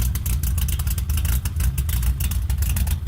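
A Datsun 280Z with a 272 cam idles close by, its steady, lumpy low rumble pulsing evenly and loud throughout, with no voices over it.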